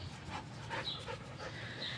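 A dog in a backyard garden pants in quick, soft, steady breaths with faint sniffing, heard up close and fairly quiet.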